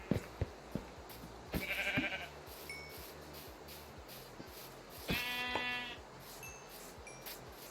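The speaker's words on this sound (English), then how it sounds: "Ooh, speaking of sheep." Two sheep bleats stand out over a steady rhythmic background of game sounds, the second longer and wavering. The calls are moderately loud and nobody speaks.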